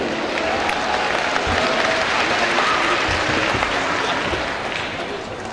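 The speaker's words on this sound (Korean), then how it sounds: "여러분 큰 박수로 환영해 주시면 대단히 좋겠습니다." An audience at an awards ceremony applauds to welcome a speaker to the stage, a loud, continuous wash of clapping from a large crowd that holds steady and eases slightly near the end.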